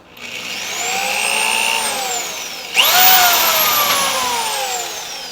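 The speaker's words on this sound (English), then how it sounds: "We're going to drill some small holes in here and see what we can do" A power drill bores small holes in a KX250 dirt bike wheel part, running steadily, close and loud, its whine dipping under load, then restarts and spins up again for a second hole.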